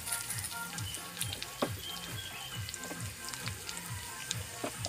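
Chopped lechon sautéing in a hot pan for lechon paksiw, a steady close sizzle with rhythmic stirring scrapes repeating every half second or so.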